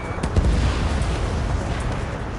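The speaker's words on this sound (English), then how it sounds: "Missile away." A missile launches and detonates in the jet combat game Ace Combat 7, giving a dense rumbling roar with a sharp boom near the start under continuous engine noise.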